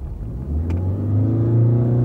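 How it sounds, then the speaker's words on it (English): A car accelerating hard with the gas pedal floored, the engine note climbing into a loud, steady rising drone heard from inside the cabin, with no talking. "Makes a lot of noise, and it does accelerate."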